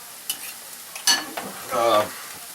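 Omelet eggs seasoned with black pepper being stirred in a bowl: a few sharp utensil clinks against the bowl, then a brief squeaky scrape, close and fairly quiet, with no talking.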